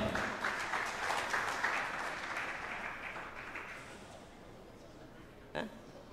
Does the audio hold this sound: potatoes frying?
no